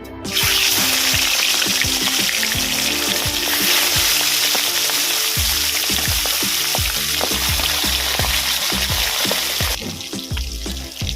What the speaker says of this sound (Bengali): তেলটা গরম হয়ে গেছে আমি মাছের মাথাগুলো দিয়ে দেবো